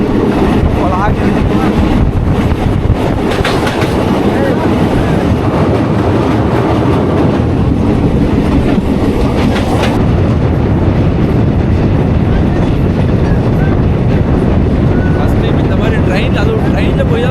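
A snow train in Kashmir runs along with a continuous loud rumble and faint rail clatter, a voice talking over the steady noise throughout.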